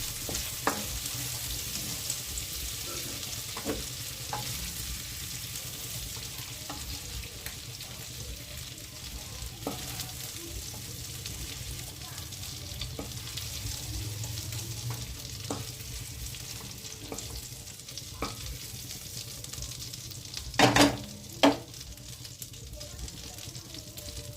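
Prawns fry in oil in a pan over a low flame, giving a steady, close sizzle with occasional pops and crackles, plus a brief louder clatter near the end.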